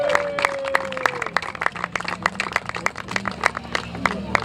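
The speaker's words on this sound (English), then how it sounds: "Can we give them a round of applause" An outdoor audience at a South Florida green market applauds the vendors, a burst of many hands clapping at moderate distance, rapid and irregular, lasting a few seconds.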